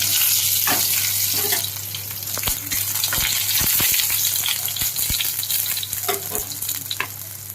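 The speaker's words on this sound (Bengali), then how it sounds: "আমি এরপরে এর মধ্যে শুকনো লঙ্কা আর তেজপাতাটা দিয়ে দিলাম" Dried red chillies and bay leaves sizzling in hot, smoking oil, a loud continuous frying hiss with scattered pops and spoon knocks throughout.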